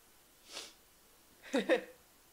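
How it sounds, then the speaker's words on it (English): A quiet breath followed by a sharp, double-burst sneeze, close and brief, in an otherwise silent room. "I have to sneeze."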